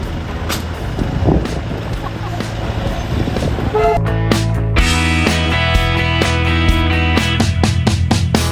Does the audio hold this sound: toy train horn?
yes